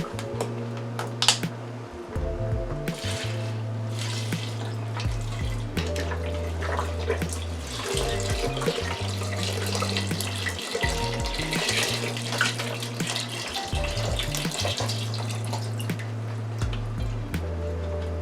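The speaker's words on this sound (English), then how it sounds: "I have 2 containers, each is a pint, so we're putting 2 pints in" Organic vegetable broth pouring from a pint container into a Power Pressure Cooker XL, a steady liquid splash and trickle running throughout, close by, with faint clinks and handling sounds and no talk.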